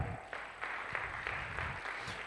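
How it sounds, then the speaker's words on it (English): An audience applauds for Zambia's delegation at a pan-African technology challenge event, steady broadband clapping rising in soft waves for a couple of seconds, somewhat muffled and distant. "Please, a round of applause for Zambia."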